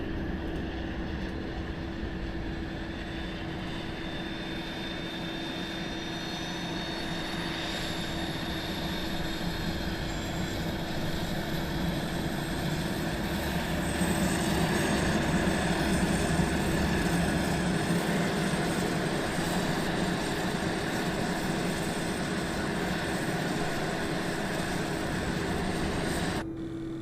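Airbus A380 airliner in Microsoft Flight Simulator 2024 starting up, a steady loud droning hum with rising whine tones, continuous throughout with no talk.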